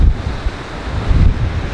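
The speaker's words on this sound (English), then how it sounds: "The sea is actually pretty rough today" Rough ocean surf below a glass-floored clifftop viewpoint on Madeira Island, a broad rolling wash of waves mixed with gusty wind buffeting the microphone, steady and fairly loud.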